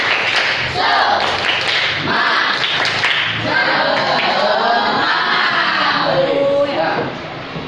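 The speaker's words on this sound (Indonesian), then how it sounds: "yuk kita coba tepuk semangat bareng semuanya" Schoolchildren in a classroom perform a rhythmic 'tepuk semangat' spirit clap, with loud patterned claps and thumps alongside chanting voices, sustained throughout.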